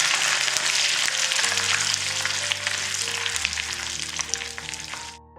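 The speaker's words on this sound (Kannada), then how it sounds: "8-10 ಕರಿಬೇವು ಹಾಕಿ ಫ್ರೈ ಮಾಡಿ." Red Byadagi chillies and curry leaves fry in hot oil as a tempering for an Udupi-style breakfast, a steady crackling sizzle close by that fades out at the end, with no talk.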